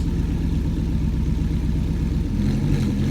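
Porsche GTS engine at a Cars and Coffee meet, a steady low rumbling idle close by that swells slightly toward the end as revs rise.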